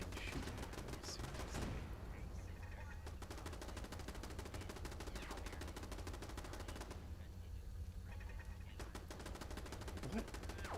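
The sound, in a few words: gunfire in the video game Fallout 4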